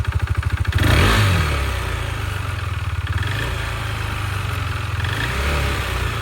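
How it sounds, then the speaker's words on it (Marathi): A sports motorcycle engine cranks and fires, then runs with a loud steady pulsing idle and mild revving, close to the listener throughout. "आपली स्पोर्ट बाईक आहे बघायला चल बस तुला चालू करून पण दाखवते"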